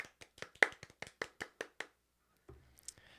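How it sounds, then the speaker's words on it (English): A few podcast hosts clap by hand at close range, a quick run of about a dozen sharp claps that stops abruptly, followed by a brief shuffle. "Can we all just give a round of applause for Ara Lynn?"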